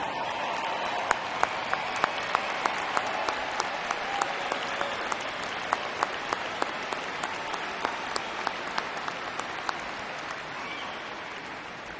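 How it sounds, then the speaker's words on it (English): A large commencement audience applauds mothers at a university evening ceremony, a long, steady wash of clapping with sharp individual claps standing out, holding fairly even for the whole stretch and easing slightly toward the end. "ask you to stand and let us applaud you for your contributions today"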